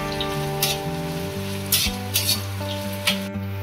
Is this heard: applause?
no